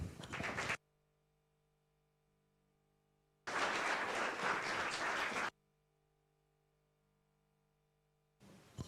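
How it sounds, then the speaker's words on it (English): A game jam audience claps for a presenting team in short bursts: a brief cut-off burst, a louder two-second round of clapping after a pause, then another starting at the end, with near silence between. "big round of applause to them"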